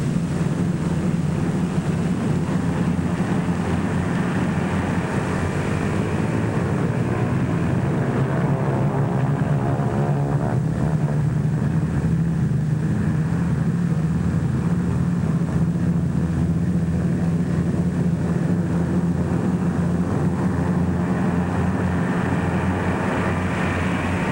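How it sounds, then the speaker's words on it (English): More than a score of US Liberator bombers warm up their propeller engines on a North African airfield during World War II, a loud, continuous layered drone with beating, slowly shifting engine tones and no voices. "More than a score of United States Liberators warm up for the takeoff from a field somewhere in North Africa."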